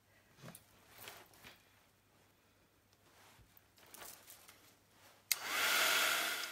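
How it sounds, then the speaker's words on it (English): Heat gun switching on abruptly and blowing a loud, steady rushing whine while drying gesso on a mixed-media box, preceded by a few quiet handling sounds and light taps. "So I'm just taking my heat gun again, and I will dry it until gesso is permanent."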